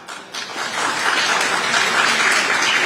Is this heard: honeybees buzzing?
no